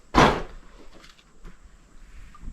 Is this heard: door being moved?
yes